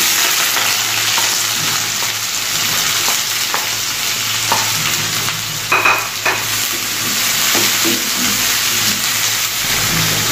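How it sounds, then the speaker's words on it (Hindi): Three onions and four or five whole dried red chillies frying in mustard oil, a loud close hiss of sizzling oil with intermittent spatula scrapes and stirring clinks, and no one speaking. "तो यहाँ हमारे प्याज फ्राई हो रहे हैं"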